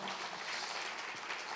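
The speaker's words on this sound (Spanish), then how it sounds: "¿Por qué no le damos un aplauso al Señor?" Church congregation applauding during a sermon, a steady, fairly faint wash of clapping that carries on evenly without a break.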